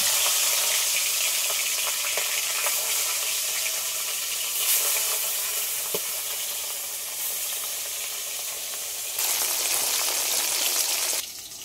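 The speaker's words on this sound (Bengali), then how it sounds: "তেল গরম হয়ে গেছে, মাছ ভেজে নেব।" Fish frying in hot oil gives a steady, fairly loud sizzle with brief bursts of crackling and spitting, with no voices.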